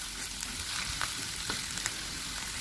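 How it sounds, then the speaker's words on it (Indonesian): Ground spice paste sautéing in oil left from frying shallots for street-cart style chicken noodles, a steady close sizzle with occasional scrapes of stirring and no talk. "Minyak bekas goreng bawang ini kita pakai buat menumis bumbu halus."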